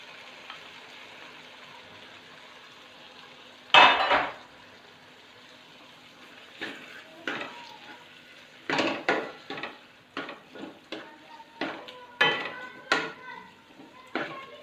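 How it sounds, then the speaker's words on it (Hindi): Minced keema being stirred in a pan, with a sharp clatter and then a run of metal spoon scrapes and knocks against the pan over a faint sizzle, some background voice. "अभी हम इसमें कीमा डाल देंगे।"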